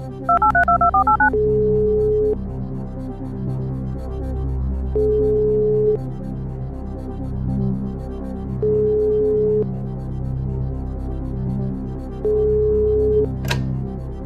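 DTMF keypad tones of a telephone dialing a call on the Russian TV quiz show Who Wants to Be a Millionaire, a quick burst of beeps at the start followed by long ringing tones repeating every few seconds over studio music.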